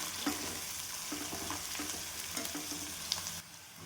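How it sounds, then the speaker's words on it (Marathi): Ginger, garlic and green chili paste being sautéed with onion and curry leaves in a pan, giving a soft, steady sizzle with light scraping stirs at an even rhythm, fairly quiet and without voices. "अद्रक लसूण आणि हिरवी मिरची पेस्ट हे पण छान परतून घ्यायचं"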